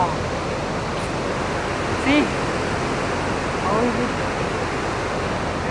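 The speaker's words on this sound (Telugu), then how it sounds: "కాలు వాటర్ ఫాల్స్ అసలు వ్యూ ఇది" Steady, dense roar of Kalu Waterfalls in Malshej Ghat fills the whole clip, with a voice speaking briefly and faintly under it.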